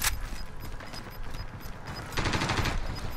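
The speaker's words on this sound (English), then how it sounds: "Hey, he was shooting." Call of Duty: Modern Warfare gunfire in a multiplayer match: a loud opening shot, then scattered cracks and a denser burst toward the end, set against game ambience.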